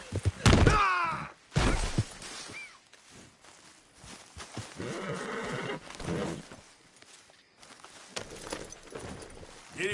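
Horses in the video game Red Dead Redemption 2 whinny loudly in two sharp bursts near the start, followed by clip-clopping hooves and thuds that continue at a moderate level, with brief vocal sounds mixed in.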